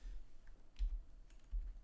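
Quiet, close clicks of typing on a computer keyboard, a few soft keystrokes spread over under two seconds, with no talk.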